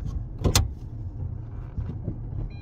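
A Tata Punch CNG car on a test drive, heard from inside the cabin as a low steady engine and road hum with a brief sharp rattle near the start.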